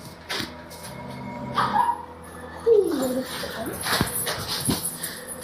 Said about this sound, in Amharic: ውሻ